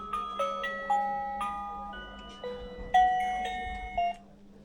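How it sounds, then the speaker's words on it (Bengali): A small electronic gift toy in a showpiece shop plays an I love you ringtone, a bright, clean chiming melody of separate notes, fairly quiet against a low background hum. "দেখতে পাচ্ছেন কিভাবে আপনাকে একটা আই লাভ ইউ রিংটোন শোনাচ্ছে"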